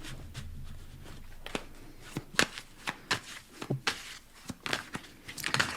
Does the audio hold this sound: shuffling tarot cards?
yes